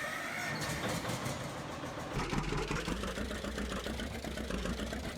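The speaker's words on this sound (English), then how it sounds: "gotta love the sound of that tractor" John Deere 730 tractor idling in Farming Simulator 19, a steady low engine rumble that turns noticeably heavier and louder after about two seconds, then holds an even throb to the end.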